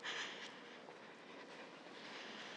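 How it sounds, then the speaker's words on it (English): A Singapore MRT train runs on an above-ground track behind houses and gardens in Tanah Merah. It makes a faint, steady rushing rumble with a slight whine, heard from a distance on a quiet residential walk. "There's the MRT train at the back."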